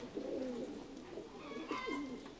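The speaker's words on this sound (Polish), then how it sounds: "to jest super gołąb" A pigeon coos softly nearby, a low rolling call repeated twice with a brief pause between.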